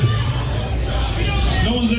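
Live studio crowd chattering and cheering at a comedy radio show, a steady dense hubbub of many voices with rising cheers throughout.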